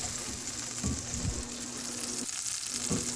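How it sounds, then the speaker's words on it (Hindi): Chopped tomatoes fry in hot oil with golden-brown garlic for an eggplant bharta, giving a steady close sizzle with soft stirring scrapes and a faint background hum. "अब हम इसमें टमाटर ऐड करेंगे। टमाटर को हम अच्छी तरह फ्राई करेंगे।"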